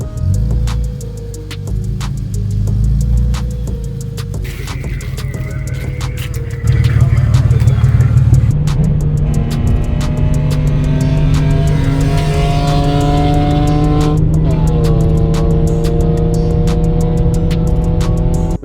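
A BMW at a track day with a balky clutch, its engine droning loudly and steadily and rising in pitch as it revs, with no talking.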